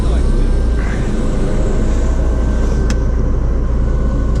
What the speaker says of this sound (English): So Terry is going to rinse the whole vehicle down.